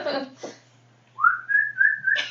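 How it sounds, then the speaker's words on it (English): A person whistles a single rising then sustained call lasting about a second, clear and fairly close, following a few brief spoken words and ending as talk resumes. "Iacus whistles."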